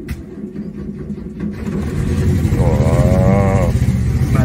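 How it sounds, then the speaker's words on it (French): A Renault 4L cranking on a cold start, then catching into a steady mid-pitched idle that grows louder, close by; a warbling electronic tone sounds over it near the end. "Allez, premier démarrage à froid, elle n'a pas démarré depuis hier."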